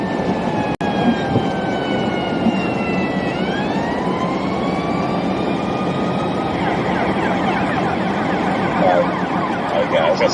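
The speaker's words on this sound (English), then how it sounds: "Ambulance behind us." An ambulance siren wails and shifts pitch as it approaches from behind during a Tennessee snowstorm, heard from inside a moving vehicle over steady road rumble, with people talking.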